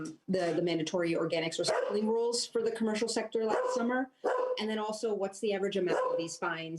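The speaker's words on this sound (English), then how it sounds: "And I apologize for my dog." A dog barks and yips in the background while a person keeps talking steadily over it during a New York City Council committee meeting.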